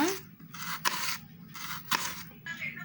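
Large onions are cut into thin slices: about five evenly spaced, crisp slicing strokes, close and moderately loud, with short quiet gaps between them.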